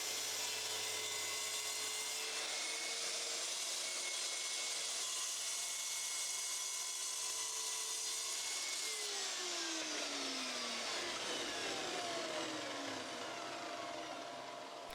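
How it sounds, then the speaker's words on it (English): A miter saw runs continuously with a whining motor while cutting a wooden tabletop to size in a workshop, the pitch dipping and shifting as the blade works through the wood, loud and close with no talking. "I love the fact this miter saw uses a shadow line instead of a laser to line up your blade."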